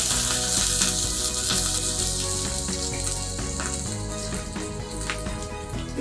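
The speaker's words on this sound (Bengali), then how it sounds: "এবার আমি এতে অনিয়ন্সগুলো অ্যাড করে দেবো।" Onions fry in a pan for chilli baby corn with a dense, steady crackling sizzle close up, along with faint stirring clicks and no voices.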